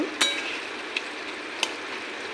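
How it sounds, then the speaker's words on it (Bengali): Raw jackfruit curry with potato, onion, garlic and salt fries in a pan under a steady hiss, broken by a few light scrapes and clinks of a stirring utensil. "ওটা ভালো করে মিশে নিই আমার কাঁঠাল"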